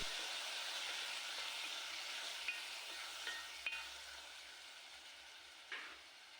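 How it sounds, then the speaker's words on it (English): Onions and tomatoes frying in a pot while being stirred, with a steady, moderately loud sizzle and a few sharp scraping knocks from the stirring. "Our onions are ready, so add in tomatoes. Stir very well to combine."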